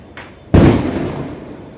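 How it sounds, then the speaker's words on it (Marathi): Diwali firecrackers and fireworks bursting at a festive celebration, a faint distant pop followed by one loud, close blast that rings out and slowly decays, with another faint crackle afterward. "पूर्ण फटाके वगैरे फोडायला लागले लोकांनी."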